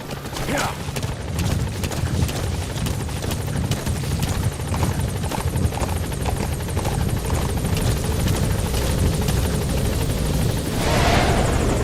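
Support helicopter in Metal Gear Solid V: The Phantom Pain arriving at a landing zone, a loud steady rotor thrum filling the whole stretch, continuous and near, with a brief swell toward the end.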